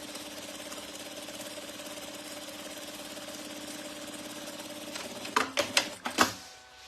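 A sewing machine sews a second seam on a shoulder bag with a steady, fairly quiet whir, ending in a few sharp clacks.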